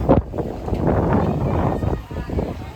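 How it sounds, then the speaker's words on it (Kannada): Strong wind roars and buffets the microphone in a steady rush at a water park in Kalaburagi, with a voice talking over it. "ಬಟ್ ಈಗ ಗಾಳಿ ನೋಡ್ರಿ, ಇಷ್ಟೆಲ್ಲ ಗಾಳಿ"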